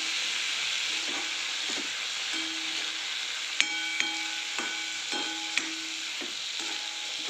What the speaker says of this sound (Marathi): आता आपण याच्यात डाळ ॲड करून घेऊया